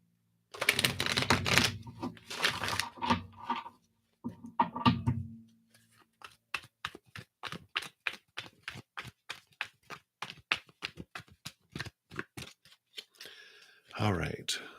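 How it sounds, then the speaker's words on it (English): Tarot cards are shuffled by hand in bursts: riffling rustles at the start, then a long run of quick, evenly spaced soft card snaps, close and quiet, with a brief rustle at the end. "Let's give these a shuffle here."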